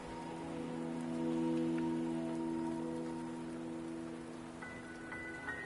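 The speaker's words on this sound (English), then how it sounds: "you trapped here by the rain?" Steady rain patters on a surface throughout in the video game Wuthering Waves, layered over a sustained low tonal drone, with no talking.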